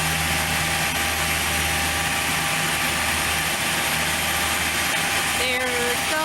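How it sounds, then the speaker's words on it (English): A small propeller aircraft taking off at Aurora Municipal Airport, heard as a steady, loud engine drone that stays under a constant broadband rush for the whole stretch, with a brief tonal whine near the end. "There goes that aircraft. He's taking off"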